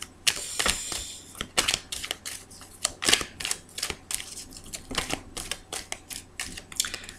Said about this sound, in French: je vais continuer de battre les cartes parce que j'ai pas assez battu